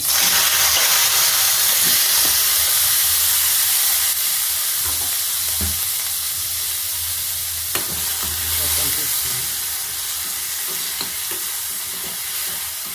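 Tomatoes fry in oil in a pan for a peanut and tomato chutney, giving a steady, close sizzle and hiss throughout with a few faint stirring knocks and no talking.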